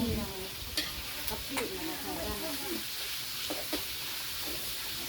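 Pieces of pork skin fry in hot oil with a faint, continuous sizzle and scattered small crackles and pops, with voices talking quietly in the background.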